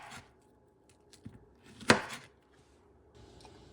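A knife cutting peeled ripe plantains into horizontal slices on a board: a few sparse soft taps, then one sharper louder chop near the middle and faint scraping after, no talking.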